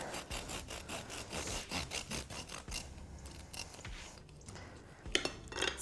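A knife saws back and forth through a crispy-topped pumpkin bread loaf in steady rasping strokes, close up and quiet, slowing before a final crunch.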